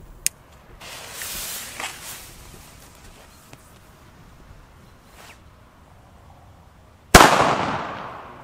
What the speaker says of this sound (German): wir starten hier mal mit den schönen Truenos, also den blauen